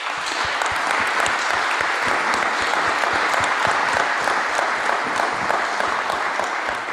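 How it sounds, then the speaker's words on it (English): Conference audience applauding panelists after a citizen science session on crowdsourced bathymetry, a steady, dense clapping from a full room that holds at even loudness throughout. "I would like to give our panelists a round of applause,"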